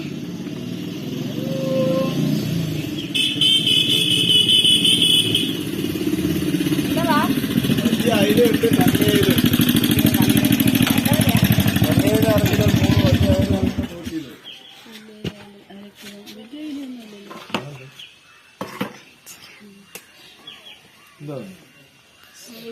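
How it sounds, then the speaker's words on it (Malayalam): A motorcycle engine runs loud and close for about fourteen seconds, then cuts away, leaving quieter outdoor background with faint bird calls. "പെട്ടിവണ്ടിയില് ഇപ്പൊ ബൈക്ക് വരുവാണ്"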